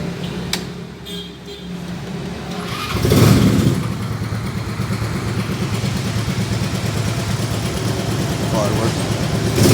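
A modified mini car's engine self-starting, a sharp cranking burst followed by a steady, close running engine hum that continues to the end with a slight rise in the final moment.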